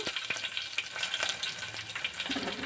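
Curry leaves crackle and sizzle in hot oil in a pan, a short, bright, close frying hiss with faint stirring noises.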